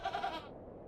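One short bleat from a goat on a farm in the video game The Excavation of Hob's Barrow, a clear wavering cry that quickly fades away with no one speaking.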